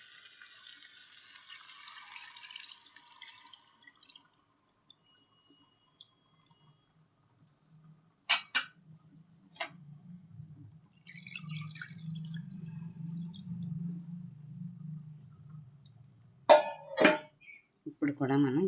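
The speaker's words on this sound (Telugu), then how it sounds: "ఇదిగోండి చింతపండు పులుసు పోసేసుకుంటున్నాను." Tamarind juice is poured into a simmering fish curry: a steady liquid pour and bubbling in a pan, with clinks of a vessel against the pot and a voice talking over it.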